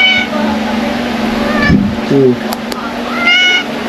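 Several short cat meows rise and fall at intervals over a steady low hum, with a brief voice in the middle, in a home flooded by Typhoon Enteng.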